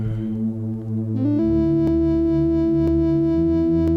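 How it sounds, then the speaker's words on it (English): Soft synth flute melody entering over a sustained pad and bass in an indie pop remake, steady held tones with a few gentle note changes, no voices. "And then a synth flute."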